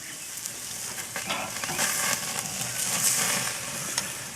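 Steak sears over high heat on a Char-Griller Akorn kamado grill, a loud, steady crackling sizzle close by, with a few scraping and clicking handling sounds on top.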